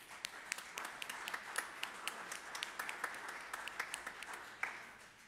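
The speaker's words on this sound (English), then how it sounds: "I think we should give a round of applause to all those people in our lives" A small worship congregation gives a round of applause, a soft, fairly distant patter of individual claps from a modest group, slightly uneven and sparse.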